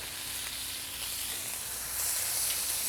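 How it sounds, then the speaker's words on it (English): Bacon sizzles steadily on a hot griddle for a keto breakfast, a dense continuous hiss and crackle that swells louder toward the end, with no voices. "we're going to put the bacon on first, get that sizzle going"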